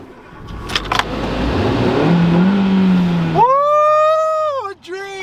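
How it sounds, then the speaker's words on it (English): A car engine revs up and drags, its pitch rising and sagging unevenly as it bogs down, loud and close, with voices shouting over it in the first half. "My car just bogs."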